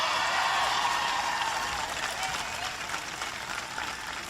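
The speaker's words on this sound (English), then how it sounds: "Please give Jennifer Granholm a big round of applause." A political rally crowd applauds Jennifer Granholm with sustained, full clapping that starts strong and eases slightly, with faint crowd voices mixed in under the din.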